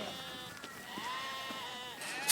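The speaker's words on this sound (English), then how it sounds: "I'm gonna go round up some more sheep." Sheep bleating on a farm, several wavering calls overlapping at moderate distance across a quiet outdoor background, with no talking.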